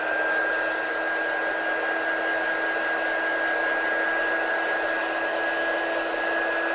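A heat tool sets hot foil, giving a steady, close, loud blowing whir with a high whine that runs throughout without pause.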